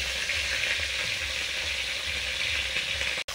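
Parshe fish crackle and sizzle in hot oil in a pan, a dense, continuous frying hiss heard up close with no talking, broken by a sudden brief cut near the end.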